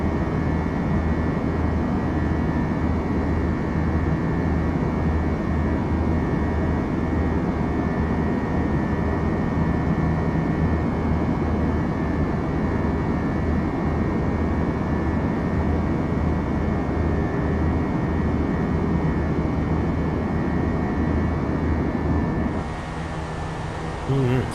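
A Fenix A320 flight simulation in Microsoft Flight Simulator, fitted with IAE engines, climbs out with a loud, constant jet engine roar and a high whine. Just before the end the roar drops off sharply.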